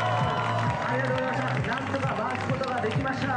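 Crowd gathered at a street performance in Asakusa, Tokyo, a continuous busy hubbub of many voices with scattered clapping, while a nearby voice talks over it.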